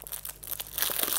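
Pages of a patterned cardstock paper booklet from a Big Shot cutting machine starter kit being handled, giving close, soft crinkling and rustling that grows a little louder toward the end, with no talking.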